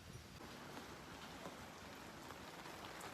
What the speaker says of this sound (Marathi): फुल जोरात पाऊस परत चालू झाला यार